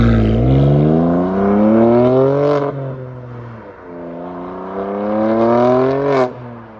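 Loud exhaust on a BMW M2 CS revving in two long sweeps, pitch climbing steadily each time before dropping off, close and loud with no talking.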